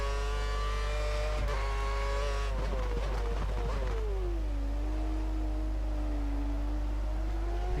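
A Lotus Formula 1 car in F1 2013 on the Belgian circuit screams loudly up through the revs, its engine note rising and shifting before settling into a steady high whine, close and constant without speech.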